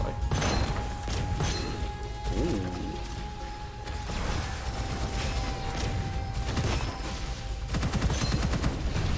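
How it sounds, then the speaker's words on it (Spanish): Secondary-fire gunshots from a weapon in the shooter Gunfire Reborn, loud and close, with a rapid burst and mechanical clacks and creaks between shots over about nine seconds. "Tiene un disparo secundario, si no me equivoco."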